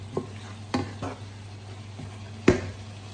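Chicken heart igado sizzling in a pan as water is added, soft frying hiss with a few sharp clinks and splashes of a spoon, no talking.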